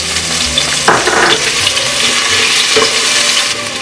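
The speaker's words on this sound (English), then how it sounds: "We're gonna add some chopped garlic. And you let it saute it a little bit." Chopped garlic sautés in a pan over medium heat, a steady broadband sizzle running throughout, with a couple of brief stirring scrapes near the start and again later.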